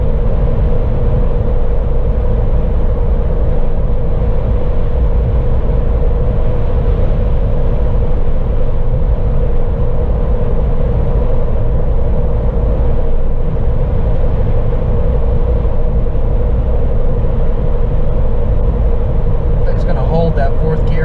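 The engine of a 2014 Jeep Wrangler with 4.56 gears labours in 4th gear after a downshift, a loud, steady rumbling drone heard from inside the vehicle for the whole stretch.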